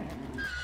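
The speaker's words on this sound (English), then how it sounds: "Shut up, horse." A horse whinnies in the video game Hunt: Showdown, a single short, fairly faint neigh with a rising tonal cry over low background ambience, no talk.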